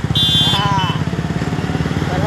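A motorcycle engine runs close by with a steady, throbbing low pulse, and a voice is faintly heard over it.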